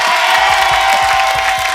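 A television studio audience cheering and clapping, a loud continuous roar of crowd noise with a steady rhythmic thumping beat underneath and a sustained tone running through it.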